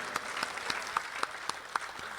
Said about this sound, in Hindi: 200 जोरदार तालियां बजा दीजिए मेशर साहब।